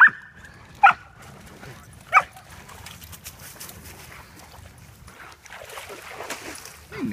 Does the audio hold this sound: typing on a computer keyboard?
no